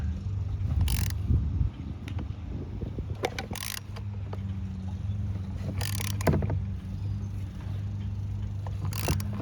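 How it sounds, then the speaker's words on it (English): A socket wrench turns to remove the power steering pump pulley on a 2007 Cadillac DTS: a few bursts of ratcheting clicks spaced several seconds apart over a low steady hum, close by. "Take your socket like this. And you're just going to rotate this until this pulley comes off."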